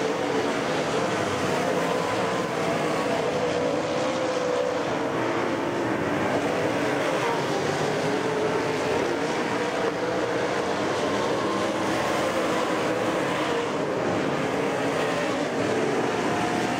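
Race cars roar continuously around the oval at Tri State Speedway, a loud, steady wash of engine noise from a pack in heavy lap traffic, with no pauses.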